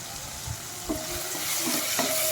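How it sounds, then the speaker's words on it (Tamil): Shallots and tomato sauté in a pan, sending up a continuous crackling sizzle with a few scraping stirs and soft knocks, close up and without voices. "சின்ன வெங்காயம் கொஞ்சம் டிரான்ஸ்பரண்ட்டாக வதங்கினதுக்கப்புறமா அதில் தக்காளி ஆட் பண்ணுறேன்"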